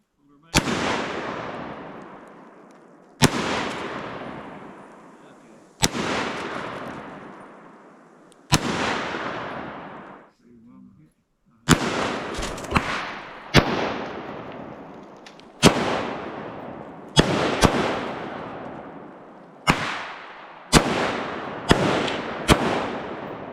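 AK-47 and AR-15 rifles fire at an outdoor range, a string of about twelve loud, sharp shots with decaying echo tails, spaced irregularly from a few seconds apart to rapid pairs near the end.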